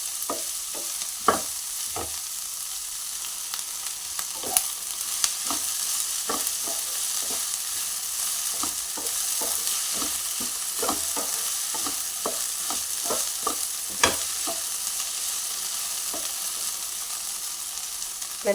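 Chopped okra and green chillies fry in a pan while being stirred, an even background sizzle broken by repeated short scraping clicks of a spoon, close up and without speech.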